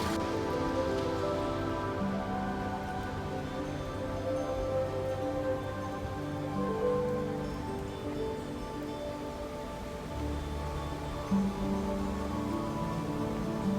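Steady rain falling in the Derbyshire town of Buxton near the Pavilion Gardens, a constant dense patter that continues throughout with no voices.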